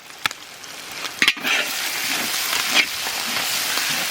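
Cumin paste added to hot oil with fried onion and ginger sizzles steadily at close range, with a few clinks and stirring scrapes, while cooking a cauliflower and egg curry.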